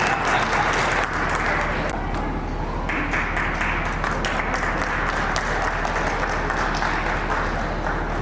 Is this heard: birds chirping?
no